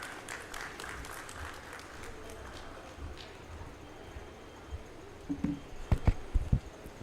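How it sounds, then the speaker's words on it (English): An audience at a government tourism session in Odisha gives moderate, somewhat distant applause that continues evenly, followed by a few louder close thumps and knocks near the end. "Can we welcome him with a thundering round of applause"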